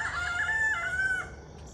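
A rooster crows loudly and up close in one sustained call, with faint clucking from nearby chickens.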